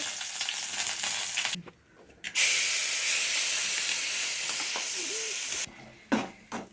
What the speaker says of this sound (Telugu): ఆయిల్ అయితే కాగింది ఎండుమిరపకాయలు వేసుకుంటున్నా ఆవాలు జీలకర్ర కరేపాకు